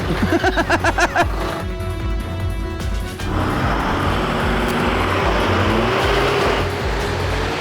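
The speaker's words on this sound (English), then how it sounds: "That right there is foot flat to the floor, giving it everything you've got to get traction to get up a rock step in Tasmania." A 4WD engine at full throttle grinds loud and close up a rock step on a Tasmanian track, pulsing labored revs giving way to a sustained roar with tire and drivetrain noise.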